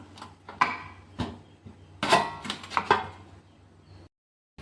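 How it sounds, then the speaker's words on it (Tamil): A knife chops ingredients into small pieces on a board, with a run of sharp, close knocks at an uneven pace, then the sound stops. "இதை சின்ன சின்ன பீஸுகளாக நம்ம கட் பண்ணி எண்ணெயில் பொறிக்க போகிறோம்"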